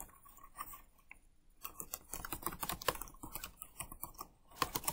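A file name is typed on a computer keyboard while saving a quilt design: quick, light, close keystrokes come in uneven bursts, with a brief pause and then a busier run of clicks.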